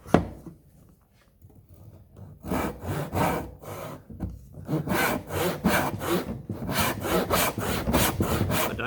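A hand saw cuts wood for an oil stone case. After a quiet start, a run of strong, rhythmic back-and-forth rasping strokes follows close up, with no voices.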